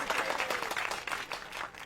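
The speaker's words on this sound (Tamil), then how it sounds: "எல்லாம் கைதட்டுங்க கைதட்டுங்க." Crowd applause with clapping, a fairly faint, dense patter of many hands that carries on evenly, heard with some distance and room echo.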